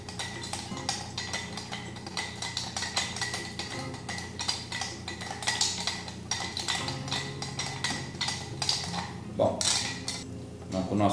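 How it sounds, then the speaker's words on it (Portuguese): A Rabo de Galo cocktail stirred steadily in a mixing glass, with continuous close metallic clinking and ice rattling under faint background voices. "Vou aqui mexer uns 30 segundos. É importante mexer de forma constante"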